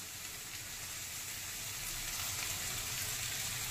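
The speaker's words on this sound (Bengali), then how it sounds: "এবার এর মধ্যে পরিমাণ মতো জল দিয়ে দেব।" Water is poured into a pan of potato and chana dal curry, giving a steady close rush of liquid over a faint sizzle, rising slightly in loudness as it continues.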